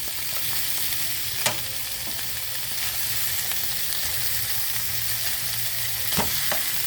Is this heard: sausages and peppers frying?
yes